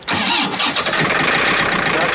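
A tractor engine on a plow and drilling rig cranks briefly without preheating, then catches and runs at a loud, steady idle, close by, with a rough low rumble.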